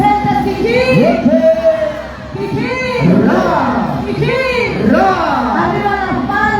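A festive crowd at an anniversary dance celebration cheers and chants loudly in repeated rhythmic bursts of shouting, close and energetic throughout.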